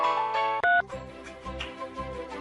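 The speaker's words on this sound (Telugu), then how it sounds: "స్వర్ణ, ఫోన్ ఎవరు చూడు." A telephone rings with a short sequence of clear electronic tones, followed by softer, lower sounds that continue at a similar level.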